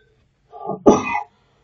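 A single cough from a man with a slight cough, close to the microphone and loud. It comes as a short wet burst with a throaty lead-in, then a longer rasping tail, and nothing else is heard around it.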